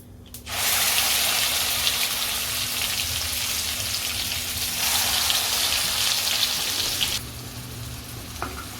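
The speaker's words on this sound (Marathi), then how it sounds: "आता हे वाटण आपण तेलावरती परतून घेऊया" Ground masala paste sizzles loudly and steadily in hot oil tempered with cumin, asafoetida and curry leaves for a drumstick and potato curry, a dense, close hiss that starts abruptly and eases off near the end.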